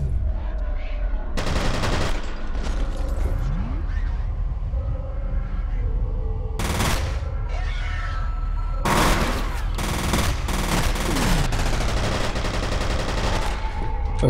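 Loud gunfire bursts from the shooter game F.E.A.R., sharp repeated shots and automatic volleys clustered in several clusters across the stretch, over a steady backdrop of in-game noise.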